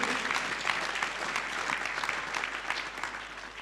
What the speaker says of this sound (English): Can we clap for Master Jesus once again?